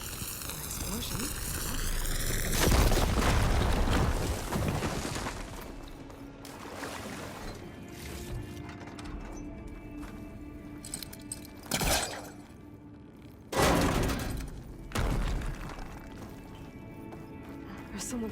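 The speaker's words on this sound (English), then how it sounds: "Should be able to blow up that fire gleam." In the Horizon Forbidden West video game, a fire gleam deposit is blown up with a loud, roaring blast and rumble early on. Sharp impacts and crashes follow under game voices talking.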